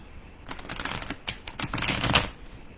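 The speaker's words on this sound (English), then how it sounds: "Let's do a nice good shuffle." Tarot cards shuffled by hand: a quick run of close, crisp papery clicks and flutters in uneven bursts, getting busier toward the end.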